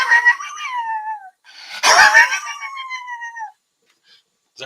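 A voice imitates a cat fight: drawn-out, wavering yowls and howls rising and falling, a louder screeching clash in the middle, then more long wails before falling silent. Loud and close, with no talking.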